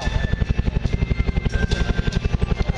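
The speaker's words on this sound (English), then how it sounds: "maneuvering the helicopter back into the center of the display area" An Agusta Bell AB212 helicopter manoeuvres at an airshow in Malta, its rotor beating in a loud, steady rapid thump close by, with turbine whine layered over the blade chop and no voices.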